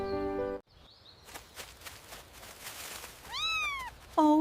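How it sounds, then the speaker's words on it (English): A small kitten gives two or three short, high meows near the end, close and clear, after a stretch of quiet footsteps and outdoor ambience. "Oh, it's a little kitten."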